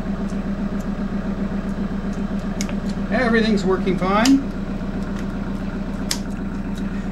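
A vehicle engine idles steadily with a low, even hum throughout, while a person speaks briefly over it.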